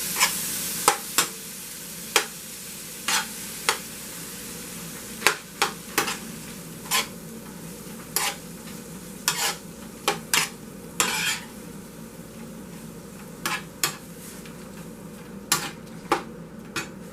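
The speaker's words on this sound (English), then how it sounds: "So turn down my fire just a little bit. And I'm going to start letting that cook down." Food sautés in butter in a pan over a turned-down flame for a crawfish macaroni and cheese dish, with a soft steady sizzle under repeated close clinks and scrapes of a utensil stirring against the pan.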